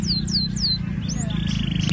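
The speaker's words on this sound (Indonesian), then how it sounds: "Burung kenari." Indonesian canary singing, a run of bright descending whistled chirps followed by a rising note and a sustained trill, heard over a steady low hum.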